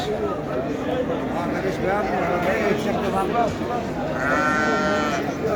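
Several goats bleat in overlapping, wavering cries at a sacrificial livestock market, over a busy background of crowd chatter and livestock noise.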